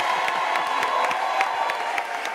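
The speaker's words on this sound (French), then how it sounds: "est-ce qu'on peut faire une pluie d'acclamations?" A church television program audience cheers and acclaims in a dense, steady crowd roar, with scattered whoops and sharp shouts over continuous clapping.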